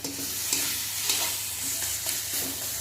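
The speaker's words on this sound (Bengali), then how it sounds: "এখন খুন্তি দিয়ে এইভাবে খুব ভালো করে একটু ভেজে দেবে" Taro leaves cooking with raw mango in a pan, a spatula scraping and stirring steadily through a soft, continuous sizzle of frying, with light rhythmic strokes recurring about every half second.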